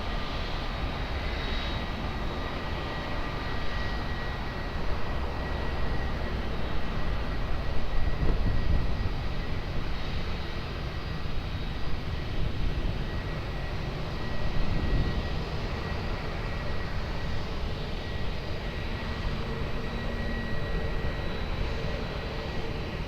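Aircraft at Lisbon Airport give a steady, fairly distant engine roar that holds throughout, swelling slightly in loudness around the middle and again later, with no talking.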